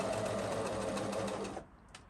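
A sewing machine runs steadily while stitching lace panties, a close, even whirr of rapid stitches lasting about a second and a half before it stops, leaving a faint click.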